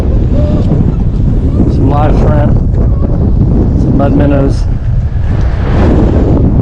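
Strong wind buffeting the microphone on a shoreline while land fishing in high water, a loud constant roar under someone talking throughout.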